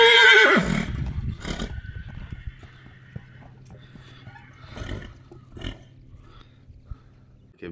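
A horse at a farmstead neighs loudly at the very start, a brief whinny, followed by faint scattered knocks and shuffling in a quiet yard.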